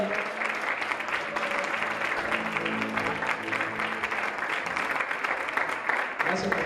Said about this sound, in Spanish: Le damos un aplauso al pastor Enos Mardones